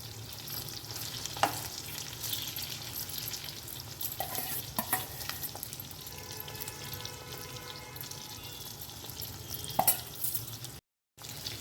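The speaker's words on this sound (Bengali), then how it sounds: "সম্পূর্ণটাই একটু আলগা আলগা করে ভেজে নেব" Soya chunks frying over a high flame while being stirred: a steady close sizzle with occasional scrapes and taps of the spoon, running without talk until a brief dropout near the end.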